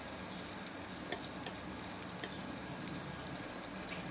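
Ghee sizzling in a pan being shaken while cooking banana, a steady, fairly quiet hiss and crackle with faint scraping, no voices.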